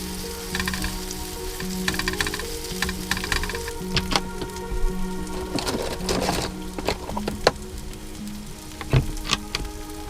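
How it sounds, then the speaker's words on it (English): Halloumi sizzles in a pan at a campsite, a close continuous crackle and spit with sharp pops, under a low steady hum. "I'm going to put the halloumi back in there just to warm it up"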